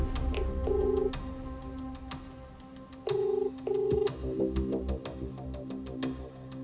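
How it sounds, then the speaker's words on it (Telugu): A telephone rings on a call during a Telugu television programme, three short electronic ring bursts spaced apart over a steady background hum. "రామకృష్ణ గారు ఒకసారి కాల్ చేస్తారండి."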